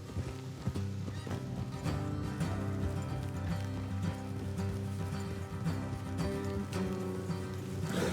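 Steady hoof clip-clop of horses moving at a walk in Red Dead Redemption 2, with a horse whinnying and a dense musical or ambient bed underneath.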